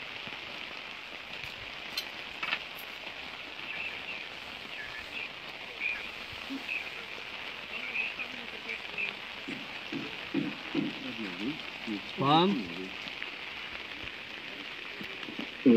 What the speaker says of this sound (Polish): słyszą Państwo, że deszcz leje